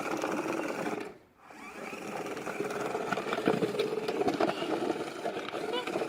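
A small homemade robot's wheels spin on a smooth surface, especially the right wheel, giving a steady whirring motor buzz with a brief dip partway through, while people talk over it.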